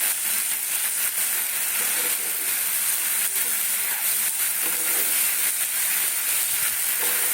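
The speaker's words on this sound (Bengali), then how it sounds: "মশলাটা কষানো হয়ে আসছে এই জন্য জলটাও ফুটিয়ে এসছে" Spiced masala for button mushroom curry sizzles and hisses steadily in a pan as added water comes to a boil, a continuous close frying sound with no voices.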